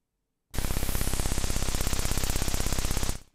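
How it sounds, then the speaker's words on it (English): A loud burst of white noise from a ZEEON synth on iPad switches on abruptly, holds steady with a faint rapid pulsing for about three seconds, then cuts off. "Let's use white noise too."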